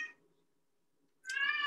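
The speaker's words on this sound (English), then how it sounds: "there's my cat in the background" A house cat meows in the background of an online extension webinar on biochar, one short drawn-out meow arriving after a stretch of near silence, fairly close and clear.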